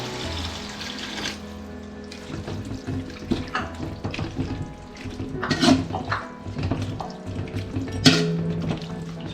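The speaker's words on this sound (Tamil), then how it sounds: "தண்ணி ஒரு 1/2 கிளாஸ் ஆட் பண்ணுறேன்" Water is poured into a biryani pot for a 1 kg chicken biryani with mint, a steady close splashing pour running throughout with a few louder clinks and splashes along the way.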